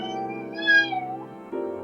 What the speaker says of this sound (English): what are you meowing about, you silly?